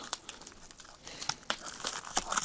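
Plastic film on a parcel box being cut and torn while unpacking, with soft crinkling and tearing close by that grows busier in the second half, no voices.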